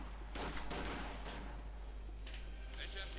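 Battlefield gunfire in Company of Heroes 2 as Pioneers and riflemen clash: a dense, continuous crackle of rifle and machine-gun shots with several sharper bursts, steady and fairly loud throughout.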